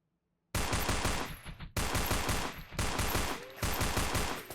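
The Drozd submachine gun in the game Space Station 14 fires four loud, rapid automatic bursts after a brief silence. Each burst is a dense rattle of shots that fades before the next one starts.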